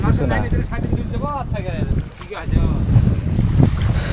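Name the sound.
boat rocking on rough river waves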